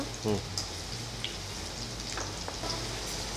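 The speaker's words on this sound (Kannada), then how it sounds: "ಫ್ರೈ ಆಗ್ತಾ ಇದೆ ಈಗ" Beans, carrot and capsicum frying in oil give a steady, even crackling sizzle like light rain, close and continuous, with a brief voice and a couple of faint clinks near the start.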